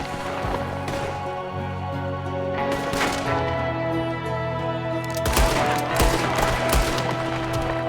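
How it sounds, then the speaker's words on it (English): Gunfire from a Western shootout in Red Dead Redemption 2, with a gunman firing from a window: repeated loud cracking shots in bursts with scattered impacts over a low rumbling game soundscape, denser toward the end. "There's another one shooting from the window!"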